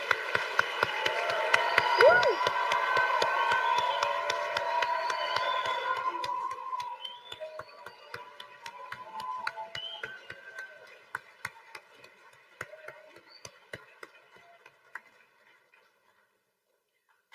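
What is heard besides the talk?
applause for new medical students at a white coat ceremony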